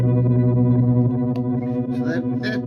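An electric guitar through a No Balls distortion pedal rings out a heavily distorted chord that sustains, followed by a few quieter picked notes with a gritty, edgy tone.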